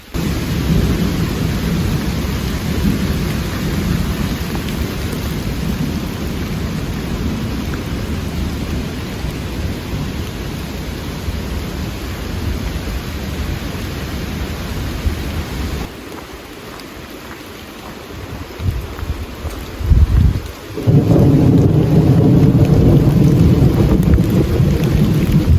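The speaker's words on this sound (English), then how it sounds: "It's also raining" Heavy rain pours steadily on the Appalachian Trail at Mount 800 while thunder rumbles, a loud dense wash that briefly thins and drops away before surging back at full strength.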